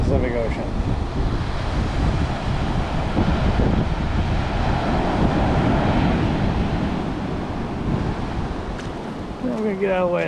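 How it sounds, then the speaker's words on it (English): Pacific Ocean waves break and wash along the shore under heavy wind buffeting the microphone, a continuous loud roar with a person talking briefly at the start and end. "This is the Pacific Ocean."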